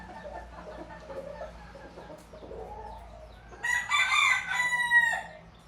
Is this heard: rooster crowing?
yes